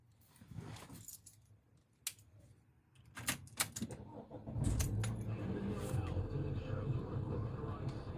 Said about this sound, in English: Keys, not my keys.